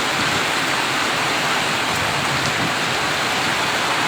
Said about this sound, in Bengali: বাতাস রয়েছে এবং বৃষ্টি হচ্ছে